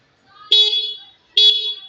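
Two short, bright horn honks close by, separated by a pause of just under a second, each fading quickly.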